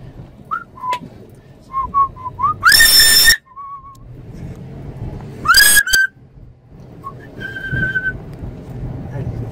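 A pet parrot whistles inside a car, giving short rising and falling tonal notes and a few loud sustained shrill blasts, close and clear over a low engine hum, with people talking quietly in between.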